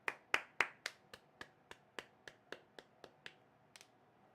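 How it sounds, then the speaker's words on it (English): Solo hand claps of a round of applause, about fifteen sharp distinct claps in an even rhythm that slows and thins toward the end, close and isolated, with no crowd or talking. "Give him a round of applause."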